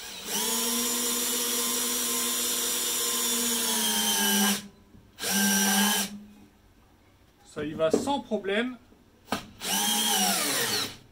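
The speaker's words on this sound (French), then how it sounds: "je vais visser ça en travers" A Bosch Pro GSR 12V-15 cordless drill whirs steadily, pauses, then spins again in short bursts as a screw bites into soft pine; someone speaks briefly between runs.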